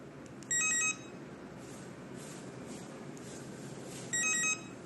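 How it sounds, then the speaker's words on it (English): Two short bursts of rapid electronic beeping from a D7-S wireless lock during remote pairing, separated by several seconds of low background hiss, faint and thin. "Press this button until you hear the beeps."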